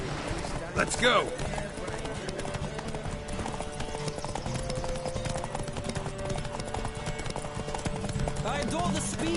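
Horses gallop in a race in The Witcher 3, a dense rapid clatter of hooves running continuously under shouted voices, with a brief whinny near the start.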